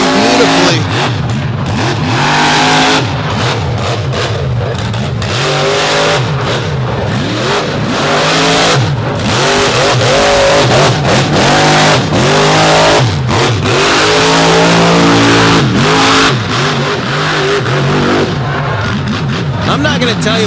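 An off-road race car engine at the 2023 All Star Championship Finals screams at high RPM, sustained and loud with rising and falling revs, while a commentator talks throughout.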